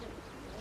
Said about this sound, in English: all pigeons are named after their owner's favourite female, Supergran.